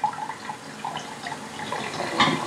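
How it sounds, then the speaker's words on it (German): Tap water running into a sink while dishes are rinsed, a close, splashing stream that shifts in pitch as it strikes the dishes, with no voices. "Reste, die nur lose aufliegen, schwemmt man unter fließendem Wasser ab."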